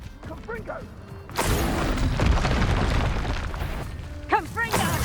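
A fiery Confringo spell blasts in Hogwarts Legacy, a sudden roaring burst that sustains as a loud, dense rumble for several seconds, with brief whooshing spell sounds before and after.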